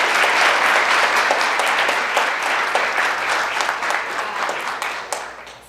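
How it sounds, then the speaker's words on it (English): An audience at a law review symposium breaks into steady, dense applause that fills the room, then slowly tapers off toward the end. "can we get like a little bit of applause for our amazing"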